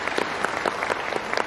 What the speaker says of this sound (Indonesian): Boleh tepuk tangan buat Ibu Heni.